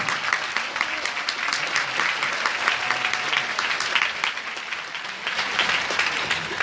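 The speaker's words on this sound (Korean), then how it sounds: "큰 박수로 안내해주시기 바랍니다." An audience at a Busan welfare-demands rally applauds a candidate from the Liberty Korea Party, a continuous dense wash of clapping from a crowd, loud and sustained.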